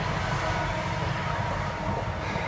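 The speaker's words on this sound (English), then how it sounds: "Train coming." A train rumbles past close by an allotment, a steady, loud roar of wheels and carriages that fills the whole moment without pause.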